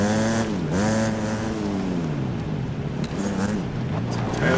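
250cc motocross bikes racing round a dirt track with berms, engines revving and wailing as they pass close by, pitch rising and dropping through the corners.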